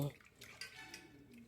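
Toor dal is swished and washed by hand in water inside a pressure cooker, making soft, faint sloshing and splashing that continues in a loose rhythm.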